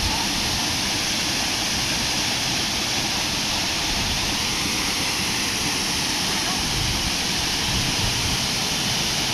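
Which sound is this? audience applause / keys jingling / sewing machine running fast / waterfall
waterfall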